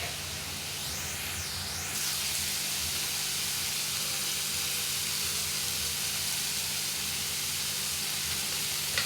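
Radish greens with salt sautéing in a hot pan give a steady, loud sizzling hiss that runs unbroken throughout, with no voices.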